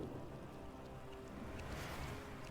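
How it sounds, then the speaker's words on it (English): Steady rain pours in the video game Wuthering Waves, a dense, even hiss that holds at a constant level throughout with no voices over it. "Until the retroact rain began to fall."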